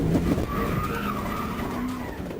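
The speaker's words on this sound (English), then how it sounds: "causing the truck to spin and slam into a concrete barrier" A white pickup truck spinning out on a Florida overpass after a police PIT maneuver, a sustained tire skid and squeal over engine roar, loud and continuous for a couple of seconds.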